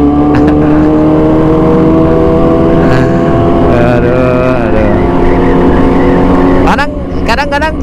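A loud motorcycle engine on a street gathering of riders revs repeatedly through a loud exhaust, throbbing steadily close by with brief sharper bursts near the end.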